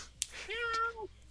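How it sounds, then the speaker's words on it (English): A cat meows once, a clear rising and falling cry close by, preceded by a brief sharp click. "I just noticed there's a cat behind me."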